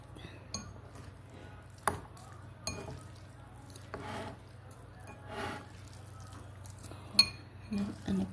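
Buldak spicy Korean fried noodles stirred with a utensil in a pot, giving scattered soft clinks and scrapes at an uneven pace over a faint steady hum, fairly quiet and close.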